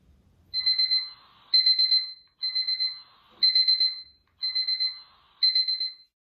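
The built-in alarm clock of a 4-in-1 LED table lamp beeps in six evenly spaced, bright electronic bursts, each a rapid trill of tones, ringing out clearly in a quiet room.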